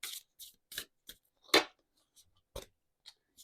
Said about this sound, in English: I was shuffling these cards